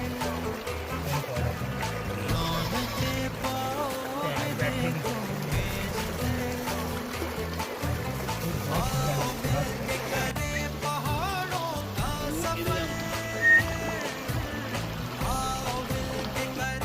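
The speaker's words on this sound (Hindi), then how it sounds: "अब हम धो रहे हैं इस चलते हुए झरने में" Water runs from a flowing waterfall stream as peaches and mangoes are washed in it outdoors, giving a steady trickling wash with splashy bursts beneath people talking close by.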